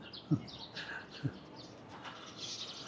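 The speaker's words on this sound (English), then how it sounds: "we've still got the crazy pigeons. They're going mad." Pigeons at an abandoned cemetery in Bangkok give a couple of short, low coos, with faint chirps and rustling around them in an open outdoor setting.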